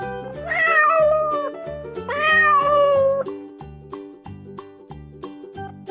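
A cat meows repeatedly in a children's animal-sounds learning game, two long drawn-out meows over a bouncy, plucky music backing track that carries on steadily underneath.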